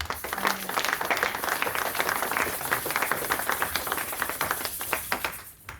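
A church congregation applauds and claps steadily throughout, a dense crowd of hands at even loudness with scattered sharper claps standing out.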